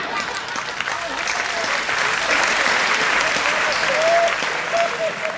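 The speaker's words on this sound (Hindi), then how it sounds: "ताली इस बात पे पूरा सदन बजाएगा।" A hall audience at a Hindi comedy and satire performance breaks into sustained, loud applause, a dense even clapping that holds steady throughout with a faint voice beneath it.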